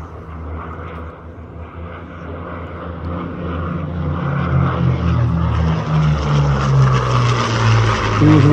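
A de Havilland Mosquito warbird at the Warbirds over Wanaka airshow flies past, its piston engines a deep droning roar that grows steadily louder and closer over several seconds, with no talk.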